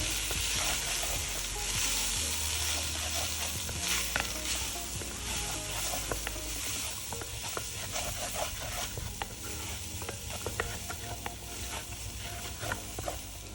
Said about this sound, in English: add in the flour and stir to combine